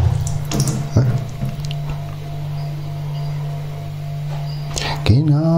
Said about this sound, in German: Tasse wieder voll machen natürlich.